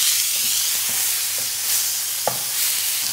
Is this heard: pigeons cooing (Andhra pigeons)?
no